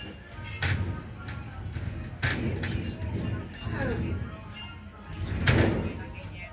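A door slides open and shut in a Filipino home, with rattling, scraping movements heard a few times over several seconds, while people talk in the background.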